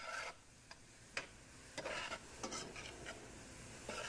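Chopped parsley sautéed in a pan, with faint sizzling and a few sharp scrapes and taps of stirring scattered through the quiet stretch.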